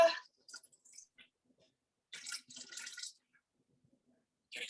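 Water poured into a Thermomix kitchen machine while measuring out 200 grams, with short splashing bursts separated by quiet gaps, close and fairly soft.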